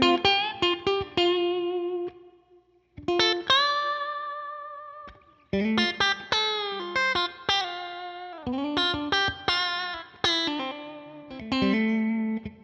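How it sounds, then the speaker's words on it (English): Electric guitar through a Line 6 Helix with dual amp models, played in bursts of chords and single notes, drenched in a big, washing reverb that lets each phrase ring out and decay; no voices. "let me put the reverb on. You're gonna hear how big this is."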